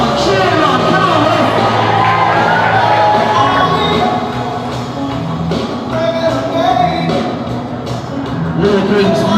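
A dense crowd at a 90th celebration event cheers and shouts continuously over music, with excited voices and whoops filling the scene at a steady, loud level.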